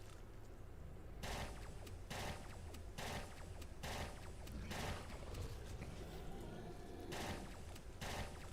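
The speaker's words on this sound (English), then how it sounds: "This gun goes burr." A gun in the video game Entropia Universe firing in short rapid bursts, several evenly spaced rattling volleys, faint and distant-sounding, with no talk.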